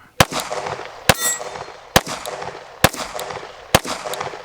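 Glock 45 pistol firing at an outdoor range, five loud sharp single shots spaced roughly a second apart, each with a brief ringing echo.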